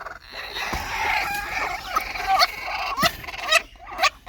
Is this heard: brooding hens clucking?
yes